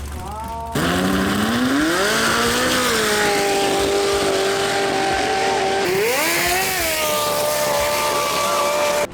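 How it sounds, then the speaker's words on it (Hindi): Drag racing car engine at a Japanese drag festival, loud and close, revving in long rising sweeps that hold steady, drop, then climb again, with no talking. "इस गाड़ी का इंजन तो बड़ा भारी भरकम था, लेकिन उतनी घटिया इसकी आवाज़ थी।"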